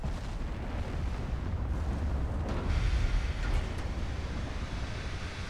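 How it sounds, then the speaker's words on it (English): Naval gun salvos thundering in the Ultimate Admiral Dreadnoughts battle between Yamato-class and H-44 battleships, a dense continuous rumble of distant booms and low roar with no clear gaps. "I think H-44 needs 5 more salvos or so to get rid of Yamato"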